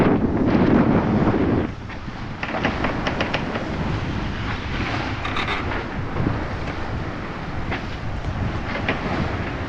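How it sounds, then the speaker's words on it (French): Strong wind of about 15 knots buffets a sailboat at sea, a loud continuous roar of microphone wind noise that dips slightly after a couple of seconds and then holds steady throughout. "il reste encore 15 nœuds de vent et sans micro, ça risque de piquer les oreilles"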